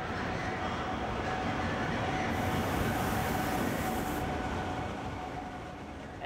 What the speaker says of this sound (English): As the train was pulling up to the station